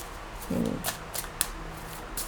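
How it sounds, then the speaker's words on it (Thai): Tarot cards are shuffled in a brief, soft riffle, followed by a few faint card taps and flicks, close and quiet. "เอาไพ่มาปนกัน"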